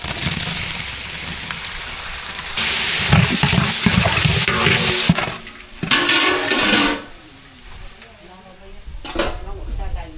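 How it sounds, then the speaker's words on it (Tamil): Onions and tomatoes sauté in a pan for biryani, sizzling under stirring with a spoon and clinks of metal cookware; the frying is loud and close, easing off in bursts, while a person talks over it. "வெங்காயம் நல்லா வதங்கிடுச்சு அது கூட தக்காளி சேர்த்துக்கலாம்"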